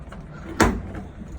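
A locked hotel door on a stairwell landing at a beachfront resort in San Diego being opened, heard as a single close thump and clack of the latch and door, brief, over quiet background noise.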